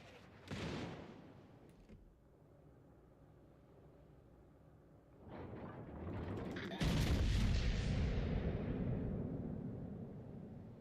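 Naval gunfire in a video game: a heavy boom opens, a quieter rumbling stretch follows, then a powerful, sustained roar of cannon fire fills the rest.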